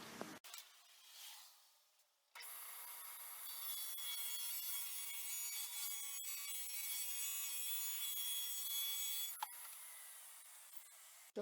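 Table saw cutting a miter along a wooden board for a fireplace mantel surround: a steady, loud whining cut runs for several seconds after a brief start-up, with a couple of sharp clicks near the end.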